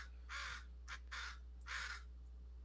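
A crow caws three or four times, harsh, rasping calls spaced a beat apart, fairly close and clear over a steady low electrical hum.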